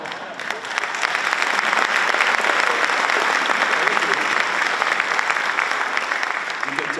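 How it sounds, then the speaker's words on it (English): An audience at a celebration of 100 years of high school athletics breaks into loud, sustained applause that fills the room with dense clapping, holding steady before easing slightly at the end. "But I appreciate the applause."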